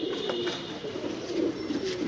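Pigeons coo softly and continuously inside a loft, a low steady murmur of several birds under faint rustling and background hiss.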